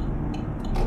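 A modded turn signal inside a truck cab in Euro Truck Simulator 2 gives a few crisp, evenly spaced clicks over a steady low engine rumble.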